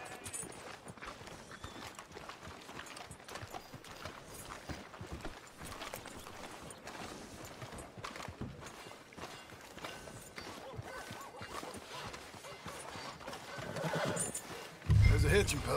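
A horse whinnies and its hooves clip-clop along a street in the video game Red Dead Redemption 2, with steady hoofbeats under ongoing game sound, a voice talking, and a louder burst near the end.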